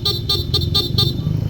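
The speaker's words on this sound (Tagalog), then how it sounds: "Bali pag na-off yon, yung tutunog na busina, yung stock horn." The stock horn on a Honda ADV160 scooter beeps in several quick, evenly spaced toots over a low engine idle, close and fairly loud.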